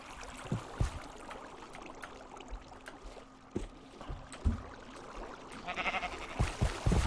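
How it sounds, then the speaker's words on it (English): A sheep bleats in Minecraft, a few faint calls mixed with soft water trickles and clicking sounds, quiet and intermittent. "oh no, the sheep's getting away"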